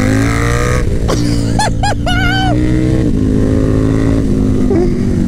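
A KTM Superduke 1290R motorcycle engine idles loudly nearby and is blipped through several sharp, rising revs in quick succession before settling back to a rumbling idle.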